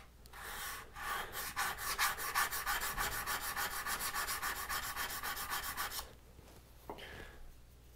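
A knife blade is drawn across a fluid-wetted diamond sharpening plate, giving a quick run of rhythmic rasping strokes, close and crisp, that stops abruptly and leaves a couple of faint scrapes after.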